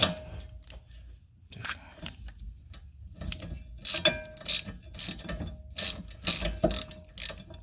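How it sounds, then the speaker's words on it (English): Ratchet wrench clicking in short bursts during a rear brake job on a 2016 Honda Civic LX sedan with electric parking brake, sharp close ratcheting with pauses between strokes, no talking. "Which way doth my ratchet turn?"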